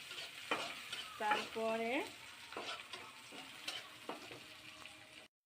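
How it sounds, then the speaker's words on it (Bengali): Onions frying in hot mustard oil, a soft sizzle with stirring scrapes and clinks of a spoon against the pan, close but quiet; someone speaks briefly. "এখন আমি গরম তেলের ভিতরে পেঁয়াজ দিয়ে দিলাম।"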